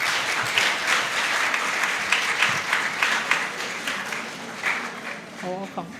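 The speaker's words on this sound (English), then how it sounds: "ladies and gentlemen, with a round of applause, please join me in welcoming Sarki Alhaji Sultan Muhammad Waziri II" An audience applauds to welcome Sarki Alhaji Sultan Muhammad Waziri II at a mental health awareness gathering, with dense, steady clapping and a few louder bursts, and a brief voice near the end.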